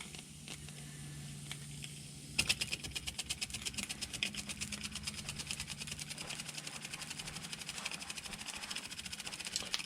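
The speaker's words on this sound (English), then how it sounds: "The engine runs beautifully." A miniature LBSC steam engine starts up and chugs at a fast, even rhythm, a steady mechanical ticking pulse close by, running continuously without any talking.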